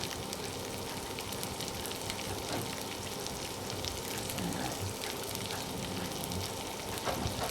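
Long strips of capsicum frying in a pan for Manchurian and egg noodles, giving a steady, close hiss and crackle of oil with faint stirring scrapes throughout.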